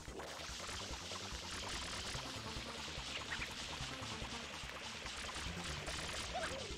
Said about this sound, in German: manchmal nervt er einem schon der Wasserwerfer